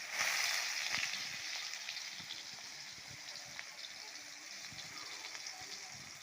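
Hot oil hitting squeezed khor chhatu in a pan sets off a steady hiss and sizzle, loudest at first and then settling into a softer continuous crackle.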